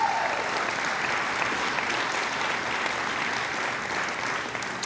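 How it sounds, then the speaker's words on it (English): An audience applauds steadily for a woman honoured at a Title IX 50th anniversary celebration, a dense sustained clapping from a sizable crowd that holds throughout without fading. "So she deserves a huge round of applause."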